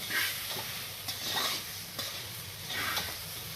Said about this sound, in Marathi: हे मिश्रण आता छानपैकी फ्राय करून घ्यायचे आहे.